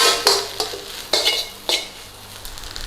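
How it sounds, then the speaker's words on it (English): A spoon scrapes and stirs through pineapple shrimp fried rice with curry powder and a little sugar in a hot pan, giving four distinct, fairly close scraping strokes about half a second apart over a light background sizzle, with no talking. "we're going to put in about half a tablespoon of sugar. Give that a quick stir in."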